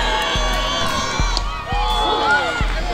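A traveling softball crowd cheers and shouts in a dense, lively roar, with high children's voices and whoops rising over rhythmic thumps.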